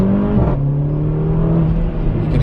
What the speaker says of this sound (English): You can hear a little bit of turbo noise there.